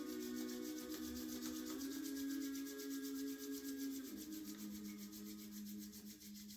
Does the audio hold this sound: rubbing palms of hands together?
yes